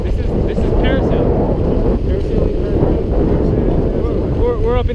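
Strong wind roars past the microphone while parasailing high over the sea at Boracay, a loud constant buffeting, with voices shouting and talking over it.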